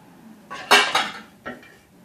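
A spoon stirs bele sambar in a metal pot, giving a few close, bright clinks and scrapes in two short bursts, the second softer, with no talking.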